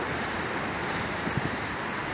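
Calm Gulf of Mexico surf on Galveston Beach on a morning with few waves, heard as a steady wash of gentle waves mixed with wind noise against the microphone, with no talking.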